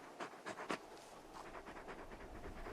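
Panting from a large dog-like creature in Final Fantasy XVI, a few quick rhythmic breathy bursts near the start followed by softer continuous huffing, close and fairly quiet with no talk.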